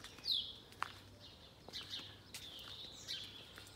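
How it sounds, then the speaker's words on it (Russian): Birds chirp and tweet in short scattered calls at a distance, over a quiet outdoor background in the Alexander Garden in the morning. "Птички поют везде."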